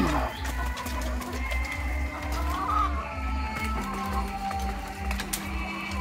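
Two-year-old laying hens clucking and murmuring close by, with a steady low mechanical hum running underneath throughout.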